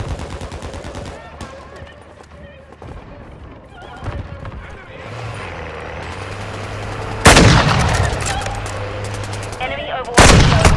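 Gunfire in Call of Duty: Modern Warfare II, with scattered shots building to two loud, sharp bursts of rapid fire near the end, mixed with voice callouts and battlefield noise.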